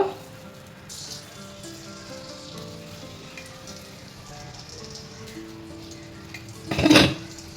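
A coarsely ground herbal ginger mixture goes into hot oil for a homemade hair oil. A steady, close sizzle and crackle rises into a loud hissing burst near the end, with no talking.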